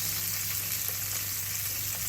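Garlic and onions fry in a pan for a Christmas lamb roast dinner's vegetables, giving a steady, close, even sizzle that holds at one level throughout with no talking.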